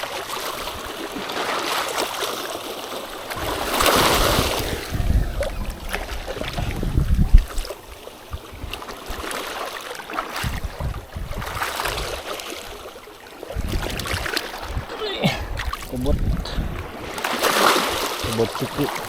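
Large sea waves surge and wash along a rocky shore on Marinduque, loud and close, swelling and then receding in repeated cycles, with someone talking over parts of it.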